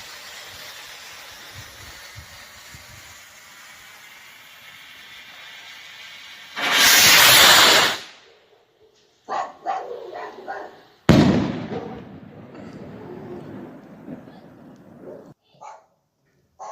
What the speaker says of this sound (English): let's fire this 3-inch bull shell rocket off and see how it performs